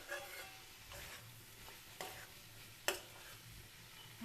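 Cabbage and potato curry with chopped tomato being stirred in a pan, quiet scraping strokes of a spoon against the metal over a soft sizzle, with a few sharper knocks along the way.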